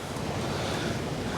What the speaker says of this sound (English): I'm trying to stay dry here in between all the water rushing in and waves coming in.